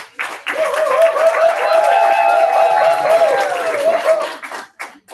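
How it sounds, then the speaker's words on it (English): Audience applause for the Table Master of the Day at a Toastmasters club meeting, a warm round of clapping swelling quickly and holding steady for several seconds before fading, with light laughter mixed in. "give him a hand clap"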